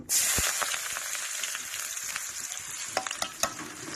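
Onion sizzles loudly in hot oil in a pan for a home-style chicken rassa, a bright hiss that starts suddenly, with a few stirring taps and scrapes toward the end.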